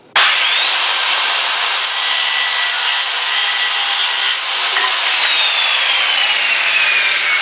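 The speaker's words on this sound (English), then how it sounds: "Now I'm cutting the 4 posts that'll make up the main frame of the bed." A loud, steady power saw whines through wooden boards, cutting bed frame posts, without pause, its harsh buzzing cut holding strong for several seconds.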